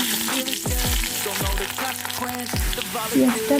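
Chopped onion frying in a pan of oil for an egg curry, a steady close sizzle broken by several sharp stir scrapes, with no one speaking.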